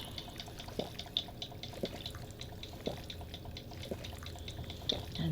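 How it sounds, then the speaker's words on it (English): In Fallout 4, a water fountain runs with a quiet, continuous trickle and soft periodic drips, heard faintly at a steady rhythm with no talk over it. "Yeah, water fountain."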